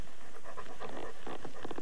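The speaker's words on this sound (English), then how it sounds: "I'm going to pet this dog" A dog pants rapidly and close by while being petted, a run of quick rhythmic breathy puffs with no talk.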